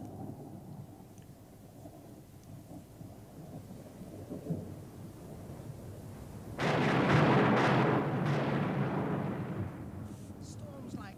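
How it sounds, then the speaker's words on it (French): A thunderstorm with thunder and torrential rain, low rumbling at first, then a sudden loud crash of thunder and a heavy downpour roaring on through the rest. "Un orage tel que celui-ci peut apporter la mort et la destruction."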